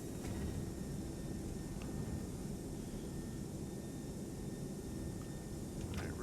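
Airbus A319 jet engines in X-Plane 11 on the runway after landing with reversers running, a steady loud broadband roar and rumble throughout, with a few faint clicks and no talking.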